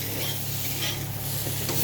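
Cumin powder sautéing with eggplant in a pan, giving a short, soft, continuous sizzle with light stirring, close and alone.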